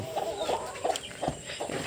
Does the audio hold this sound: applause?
no